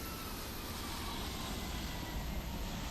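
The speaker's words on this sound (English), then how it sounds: "There's another plane landing there." Jet airliner landing at Brisbane airport, a continuous broad engine roar heard from a distance, steady and moderately loud without speech.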